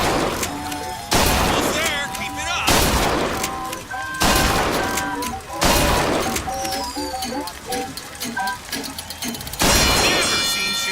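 Rapid gunfire from Bioshock Infinite, loud repeated bursts and volleys over game music and effects, continuing across the whole stretch.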